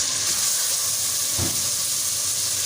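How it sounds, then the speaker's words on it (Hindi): Pieces of meat fry in a pot with ginger, garlic and cumin for arvi gosht, giving a loud, steady sizzling hiss that continues without a break and without talk. "तो ये हम गोश्त को कलर चेंज होने तक इसको हम अच्छे तरीके से भून लेंगे।"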